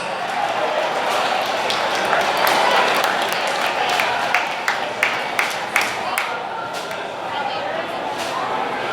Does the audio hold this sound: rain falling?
no